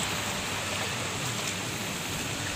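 A forest stream runs with a steady, loud, broadband rush of flowing water that stays even and continuous from start to finish, with no voices over it.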